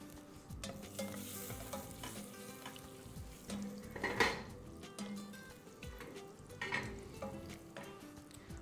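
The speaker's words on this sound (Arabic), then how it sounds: "مكونات ي هدي تقليبة كده مع الخضروات" Vegetables stirred with a small cube of butter in a pan, onion and garlic among them, sizzle softly while a spoon scrapes and clinks against the pan in a few quiet bursts.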